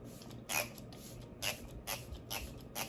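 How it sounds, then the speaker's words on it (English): Several short hissing spritzes of an Elf Cosmetics setting mist spray, about four or five bursts spaced irregularly, fairly quiet and close with no talking. "I am going to use the spray that came in the collection"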